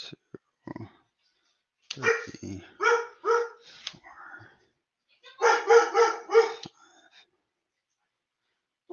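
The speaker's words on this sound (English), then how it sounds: "I don't know if Early is barking because he likes that attack or he doesn't" A pet dog barks in two clear bursts of several sharp barks each, close and loud, during a Premodern Magic: The Gathering gauntlet match, with a brief voice at the start.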